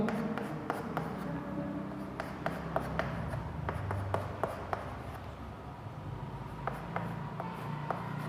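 Chalk or marker taps and scrapes on a board during a maths lecture as a teacher writes trigonometric values, a run of short, close strokes over quiet room noise, with no talking.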